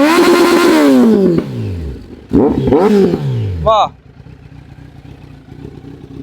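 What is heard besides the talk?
Kawasaki Z900 motorcycle revving with Arrow exhaust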